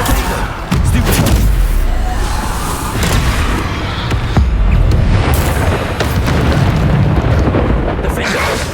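Bombarda spell explosions from the Hogwarts Legacy video game, a dense run of heavy booms and bursts that keep coming for the whole stretch, loud and close, with a voice speaking over them.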